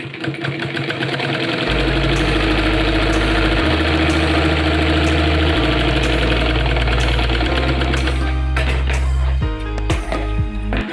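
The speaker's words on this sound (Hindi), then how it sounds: "अब इसको इस तरीके से सीधा कर लेना है और इसको बैठा के यहाँ सिलाई लगा लेनी है।" A sewing machine stitches fabric for girls' pants, running in steady loud bursts with a constant mechanical whir and short pauses between runs, close and alone without voices.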